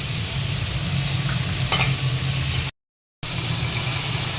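Steady sizzling of spices sautéing in a hot pan with a spoon scraping and stirring through it, continuous and close, briefly cutting out before resuming.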